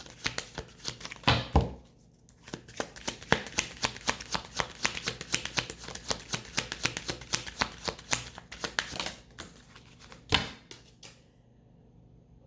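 Oracle cards being shuffled by hand, a steady run of crisp riffling and flicking bursts with a couple of louder slaps, close and fairly quiet, no talking.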